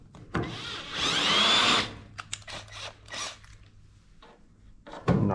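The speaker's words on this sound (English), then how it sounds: "I'm going to drill pilot holes." A power drill whirs in a short burst of about a second while drilling pilot holes, followed by quieter clicks and handling noises, then a brief second whir at the end.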